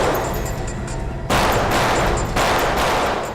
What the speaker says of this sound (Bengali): এরা কারা ফায়ার করছে স্যার?